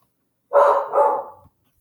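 A dog barks twice in quick succession, a loud, close, mid-pitched double bark standing alone against silence.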